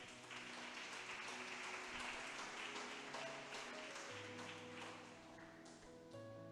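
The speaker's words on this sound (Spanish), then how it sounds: "Vamos a aplaudirle" Church congregation applauding during a sermon, steady sustained clapping from many hands at a distance, quiet overall, with faint tonal sounds beneath.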